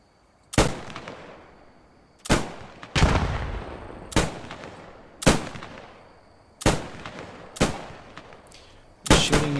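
Gunfire at night in the World War II shooter Post Scriptum: six loud, sharp shots spaced about every one to two seconds, each with a long rolling echo tail, and no talking.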